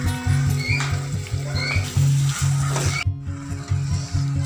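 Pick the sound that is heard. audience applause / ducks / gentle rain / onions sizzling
onions sizzling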